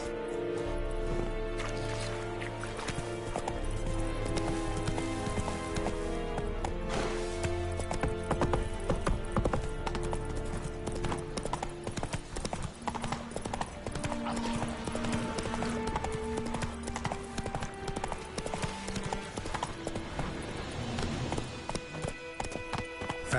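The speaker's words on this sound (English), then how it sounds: "Ih, cavalo." Horse hooves clip-clop steadily through a continuous game soundtrack in The Witcher 3, with an occasional whinny and music layered over the gallop.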